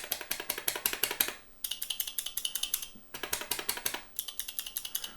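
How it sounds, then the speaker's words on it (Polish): Baolian microswitch arcade buttons clicking in fast bursts of sharp, crisp clicks, two long runs with brief pauses between them, close and clear with no talking. "Ale te się wydają troszeczkę inne, mają klik."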